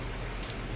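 Rain falls steadily outdoors on a morning, a soft, even hiss of drops on surfaces that runs unbroken for under a second with no voices.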